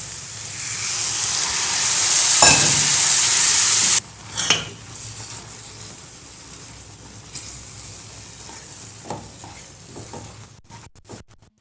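Garlic thokku with ground garlic and tamarind water simmering in a pan, a loud steady sizzle and bubbling for about four seconds with a stir, then softer frying and occasional utensil clinks, no talk.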